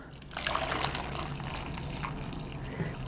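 Water pours into a fabric dye bath in a steady, close, continuous splashing trickle that runs throughout.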